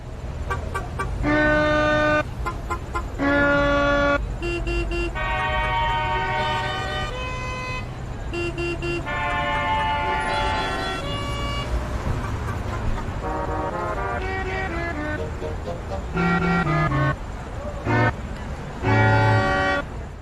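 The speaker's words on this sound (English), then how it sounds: "that was some car horn Beethoven that I made with this super sweet HP Pavilion X360" Beethoven melody built from car horn samples on an HP Pavilion X360 laptop, a steady run of tonal honks and toots stepping through the tune over a low bass layer, loud and continuous throughout.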